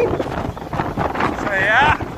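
Strong wind roars across the microphone at a robot racing track in Killarney. The gusts are loud and turbulent and build toward the end, with a faint high whine from a passing vehicle, and no speech is heard.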